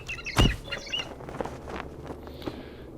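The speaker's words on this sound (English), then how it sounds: "These birds are irritating." Ambient birdsong from the video game Lord of the Rings Online: bright, scattered chirps and tweets over a low background, with one louder burst early on, then lighter calls trailing off.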